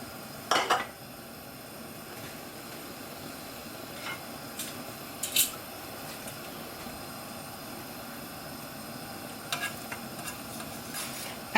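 Chana dal flatbread frying in a pan, a soft steady sizzle running throughout with a few brief clinks of utensils against the pan.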